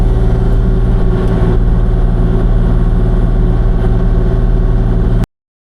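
Kubota KX040-4 mini excavator diesel engine working steadily and loud up close while scooping gravel for footings, a continuous droning rumble that cuts off abruptly near the end.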